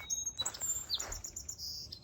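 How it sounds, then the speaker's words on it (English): Outdoor birdsong of sparrows, a Carolina wren and robins, with bright overlapping chirps and whistled notes close by and continuous over a soft background hiss. "I think I hear sparrows, Carolina wren, robins, everything."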